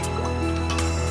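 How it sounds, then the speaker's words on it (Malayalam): Cornflour is stirred into water in a bowl during a cooking show, a brief, close, wet swishing and sloshing. "നമ്മൾ കോൺഫ്ലവർ വെള്ളത്തിൽ കലക്കും"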